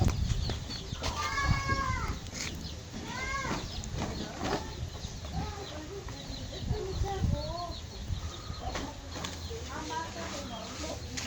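Hens cluck and chatter in repeated short calls around a farmyard house, some close and some farther off, with people talking in between.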